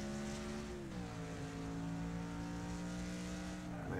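Car drifting in the Wreckfest racing video game, a sustained engine drone with gliding pitch that dips and climbs as the tires scrub sideways, steady and continuous with no speech.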